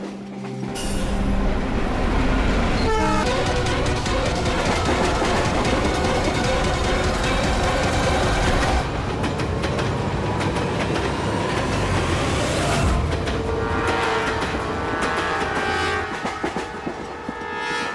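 A passenger train runs loudly on its rails, a dense steady roar of wheels and carriage rumble with rhythmic clatter and some high squealing, filling the whole stretch without talk.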